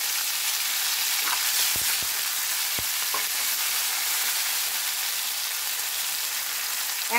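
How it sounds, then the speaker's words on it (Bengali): Tomato and onion paste hitting a hot tempering in a pan, giving a steady, close, bright sizzle that continues evenly throughout, with a few faint taps of a utensil and no talking. "এবার আমি টমেটো আর পেঁয়াজ বাটাটা অ্যাড করব।"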